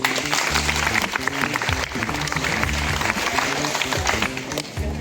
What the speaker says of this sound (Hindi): तालियां बजनी चाहिए भाई